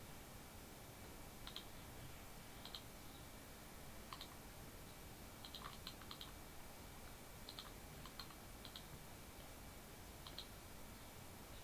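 Faint, sparse keystrokes on a computer keyboard, a few scattered clicks and short bursts over a steady hiss of background noise, with no talking.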